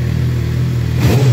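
Suzuki GSX motorcycle with its original exhaust and catalytic converter idles steadily up close, then gives one short, loud rev near the end.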